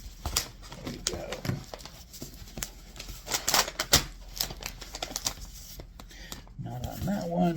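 Sticky packing tape being peeled and tugged off a mailed package of comic books, producing a run of quick rasping rips and crackles, with a voice and handling noise briefly heard toward the end.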